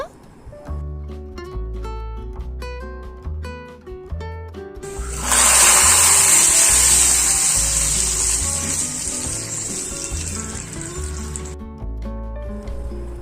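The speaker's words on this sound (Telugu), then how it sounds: "తాలింపు వేసుకున్నప్పుడు ఇలాంటి సౌండ్ వస్తే భలే ఉంటుంది కదా." A tempering of cumin seeds, curry leaves and dried red chillies is poured into wedding-style sambar and erupts in a sudden loud hiss that slowly fades, heard over steady background music.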